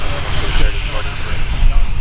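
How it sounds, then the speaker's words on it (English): Yellow taildragger airplane at the Sun 'n Fun 2021 airshow, its engine a steady, loud, broadband drone throughout, with radio chatter or talk underneath. "We'll wait for the yellow tail dragger."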